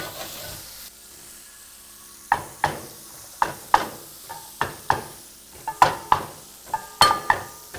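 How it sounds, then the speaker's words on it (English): Potatoes are pressed to burst their skins in a pan of hot rendered duck fat. Sharp, close cracking pops come at irregular intervals over a faint, steady sizzle, with no talking. "I'm bursting my potatoes because I want to crisp up the outside of the skins"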